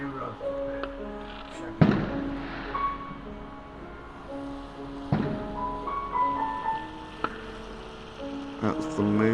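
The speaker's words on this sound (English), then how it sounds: "hopefully you'll spot a firework." Fireworks explode at a distance in a few sharp cracking booms with crackling tails, spread over gentle piano music, while a voice talks intermittently.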